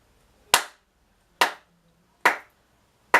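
Four crisp hand claps, evenly spaced at a slow steady pulse of crotchet beats, ring out one at a time, near and clear, with silence between each.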